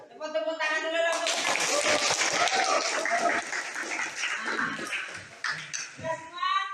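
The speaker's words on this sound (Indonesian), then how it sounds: "Tepuk tangan dulu dong." A group of children claps hands together in a classroom or hall, a burst of lively mixed clapping framed by a speaking voice before and after.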